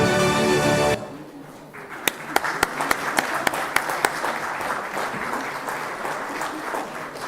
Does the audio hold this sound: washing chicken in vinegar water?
no